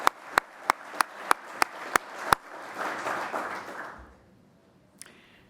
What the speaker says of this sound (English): So I want a round of applause for Jan Gehl for his vision and leadership.